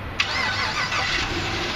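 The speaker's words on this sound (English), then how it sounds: "We're going to do a remote start." A 2011 Chevrolet Camaro 2SS V8 is remote-started: the starter catches with a sharp burst and the engine flares up, then settles into a steady, rumbling idle, close by with no talking.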